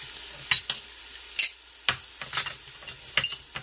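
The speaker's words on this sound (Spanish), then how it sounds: "ya cuando esté bien ah, sofrita la cebolla, le voy a echar los dos dientitos de ajo igual picaditos" Chopped onion and garlic fry in a pan under a low, steady sizzle, broken by repeated sharp scrapes and clacks of a utensil stirring at irregular intervals, close and with no voices.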